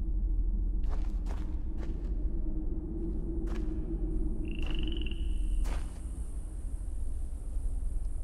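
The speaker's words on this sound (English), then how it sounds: "I heard like a frog or something then." Frog croaking in the VR adventure game Obduction: a few short croaks and clicks over a constant low ambient rumble, with a brief tonal chirp midway, all fairly faint within the game's environment and no speech.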